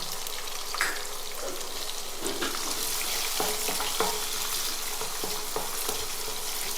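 Shallots fry in hot oil for a Tamil fish gravy, a dense crackling sizzle with repeated scrapes and knocks of a spoon stirring against the pan.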